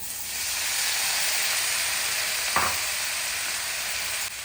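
500 grams of tomatoes hit a hot pan with chopped onion, setting off a steady, loud broad sizzle and hiss that holds evenly throughout, with a brief clink partway in.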